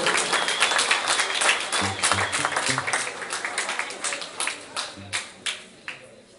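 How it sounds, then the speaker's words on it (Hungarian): Wedding guests at a Hungarian wedding celebration break into applause, a dense, loud burst of clapping that gradually thins into scattered, separate claps before fading out. "Hát egy nagy tapsot kérek ennek!"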